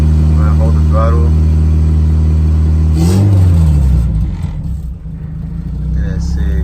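A turbocharged Honda Civic engine held at steady high revs with a droning tone, then the pitch dips and settles back toward idle; voices talk over the engine.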